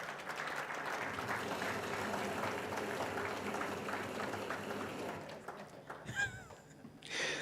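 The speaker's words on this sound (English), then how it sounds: "The picture is going to look better if you continue applauding while he's being photographed." Sustained applause from the audience at a mathematics awards function as a recipient is photographed, a dense, even clatter of clapping that fades near the end, where a few brief sharp sounds break through.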